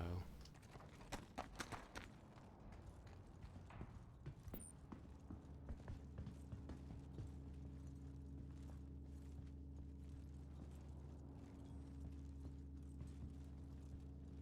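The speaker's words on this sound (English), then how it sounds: "there's an audio bug currently where the sound of your footsteps is somewhat offset from" Player footsteps in the video game Star Citizen, affected by an audio bug that offsets them from the character's position, come as quick clacking steps early on, then fade into a steady low mechanical hum with faint ticks.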